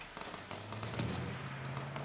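Gunfire fills a match of the battle-royale game H1Z1 King of the Kill as a dense, fairly quiet crackle of rapid shots, with a low steady hum running underneath.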